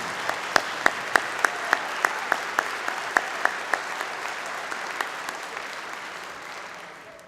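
A convocation audience applauds the MacEwan University Big Band with a broad crowd wash topped by one person's sharp, rhythmic claps near the microphone, gradually fading toward the end.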